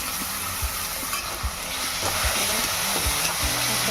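Chopped onion sautés with ground masala paste for ridge gourd chutney, a steady close sizzle with periodic scrapes and stirs of a spoon against the pan.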